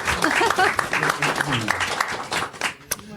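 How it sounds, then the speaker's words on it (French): An audience at a fifth-anniversary celebration applauds to thank a woman named Lamia; a dense patter of clapping runs steadily for about three seconds, mixed with voices talking over it. "On peut remercier Lamia, s'il vous plaît. Un applaudissement."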